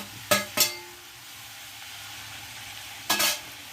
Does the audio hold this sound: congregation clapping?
no